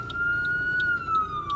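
Emergency vehicle siren wails steadily with a sustained tone, moderately loud and somewhat distant, carrying over street background noise.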